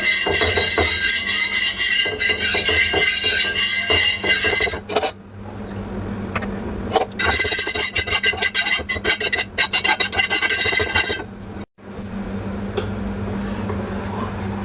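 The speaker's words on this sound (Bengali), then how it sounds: "অল্প একটু তেল দিয়ে দিয়েছি, দিয়ে সবগুলো মাখিয়ে নেব।" Oil being spread over a hot chatu griddle, a loud close scraping and rasping rub in long strokes, broken by brief pauses, no voices.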